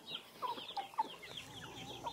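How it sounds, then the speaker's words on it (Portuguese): Farm chickens clucking softly while being fed corn, several short close clucks and murmurs in an uneven rhythm at low volume. "Jogando milho pra galinha?"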